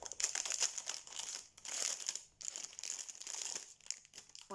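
Sticky tape being handled, a dense rustling crinkle that runs in bursts with short pauses, close and fairly quiet.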